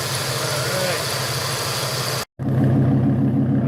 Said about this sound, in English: Okay, rev it up, son. There's a V10 for you. That's a pretty sound.